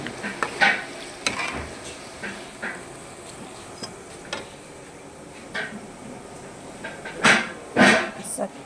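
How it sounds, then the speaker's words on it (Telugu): Cabbage pakoda deep frying in hot oil, a steady bubbling sizzle with occasional louder crackles and stirring clatters near the end, close by and moderately loud. "చక్కగా వేగుతుంది క్యాబేజీ ఫ్రై"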